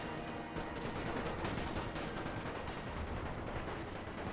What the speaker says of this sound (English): And now with these guys firing in the flank, the machine gun should be done with in a second or two.